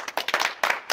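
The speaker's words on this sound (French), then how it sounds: "On applaudit pour la synchro." A few quick hand claps, made to sync audio, ring out as short, sharp bursts in about a second; they are close and moderately loud.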